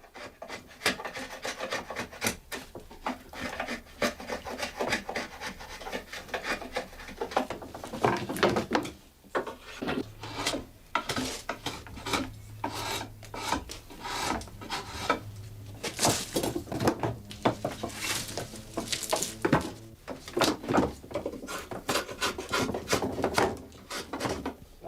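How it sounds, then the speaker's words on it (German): A drawknife shaves and squares the points of wooden rake tines by hand, producing repeated rasping, scraping strokes in irregular bursts, sometimes with light clunks of wood being handled. "Ähnlich den Zähnen werden die Gabeln mit dem Ziehmesser eckig angespitzt"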